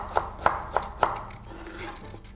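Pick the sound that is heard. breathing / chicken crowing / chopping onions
chopping onions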